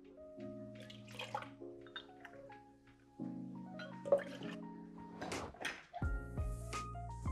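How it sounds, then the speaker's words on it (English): Water poured into a vessel while mixing a sea salt air for a cocktail, with a few brief splashing bursts and small clinks against quiet background music, faint and close. "For the sea salt air, we're gonna be doing 4 ounces of water."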